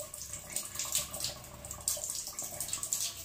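Warm water runs steadily from a tap over a NELCATH catheter being rinsed, a soft continuous splash with gentle fluctuations, fairly quiet and close, with no voices.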